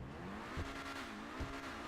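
Pegasus Reaper supercar engine in GTA 5 Online revving, a short burst of rising engine roar with two quick throttle blips, fairly quiet and alone.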